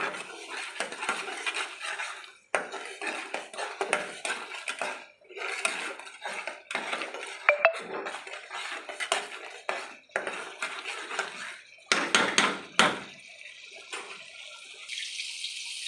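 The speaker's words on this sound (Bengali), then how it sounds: "এবার আমি ভালো করে সব দিয়ে কষিয়ে নেব যতক্ষণ না তেল ছাড়ে" A spatula stirs a masala of ground cashew and curd in a pan, with bursts of metallic scraping and clattering against the pan, separated by short pauses and a soft sizzle beneath.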